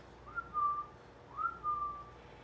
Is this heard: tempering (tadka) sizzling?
no